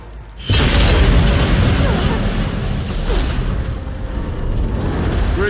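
Explosive ammo from Horizon Zero Dawn detonates in a sudden loud blast, then a long roaring, crackling rumble that holds for several seconds with scattered debris-like bursts.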